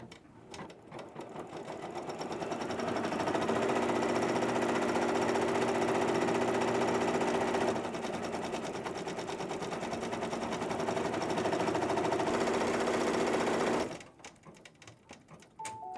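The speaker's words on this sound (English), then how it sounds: "Unlock the machine and start sewing" Embroidery machine stitching a design with pink thread in a makerspace, a rapid, steady mechanical chatter that ramps up, runs continuously for about twelve seconds, then stops abruptly; no speech.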